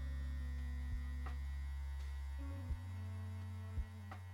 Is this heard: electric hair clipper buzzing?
yes